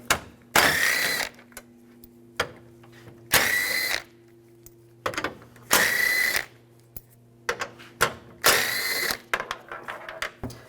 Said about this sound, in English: And take these screws out. Use a 10mm socket.